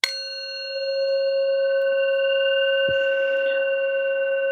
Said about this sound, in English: you want to hit the bell